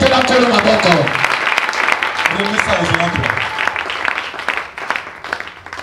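A church congregation applauding during a worship service, with sustained clapping throughout alongside singing and voices, the applause thinning slightly toward the end.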